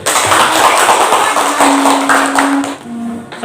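Classroom audience clapping hands after a student presentation, a loud dense round of applause from many people that rolls steadily for close to three seconds before fading out.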